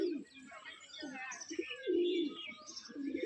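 Tumbler pigeons coo in a low, throaty rolling murmur, repeated in several swelling phrases close by, with faint chirps and some human voice in the background.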